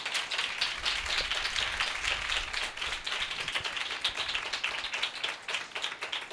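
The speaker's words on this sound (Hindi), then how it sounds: "ज़ोरदार तालियां खुदा के कलाम के लिए।" A congregation at a church service in Pakistan claps hard and steadily, a dense, sustained patter of many hands that fills the space for several seconds with no talking.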